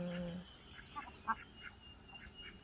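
Faint duck quacks come through a steady outdoor hiss, a few short calls scattered at a distance with no clear speech.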